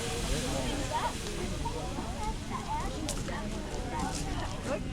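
An outdoor fish boil boiling over onto the wood fire, giving a steady loud hiss and crackle with sizzling throughout, as people talk over it.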